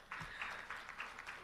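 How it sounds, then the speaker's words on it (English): Brief, faint clapping from an audience at an African democracy stakeholders' conference, acknowledging a guest, with a few soft irregular claps over a second or so. "Can we clap and acknowledge?"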